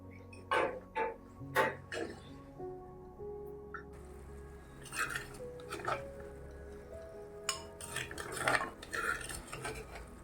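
Fish peera curry being scooped from a pan into a bowl, with irregular metal spoon scrapes and clinks against the cookware, close and moderately loud.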